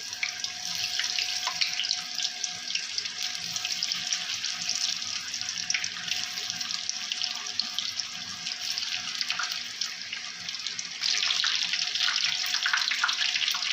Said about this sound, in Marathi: तेल चांगलं गरम झालंय आहे चांगला खरपूस तळून घ्यायचं आहे